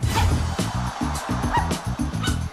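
Puppies yip and bark in quick, repeated bursts, several small dogs close together, loud and busy with overlapping whimpers.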